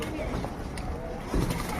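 Bathing pigeons give soft low coos while a person talks over them.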